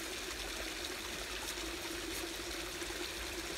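A waterfall pours in a steady, broadband rush, constant and fairly close, with no voices over it.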